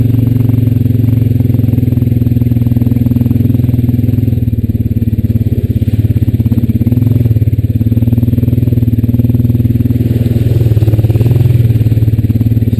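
Honda Rancher 420AT ATV in two-wheel drive, engine running continuously while riding: loud, steady low engine drone with rattly clatter throughout, close and uninterrupted.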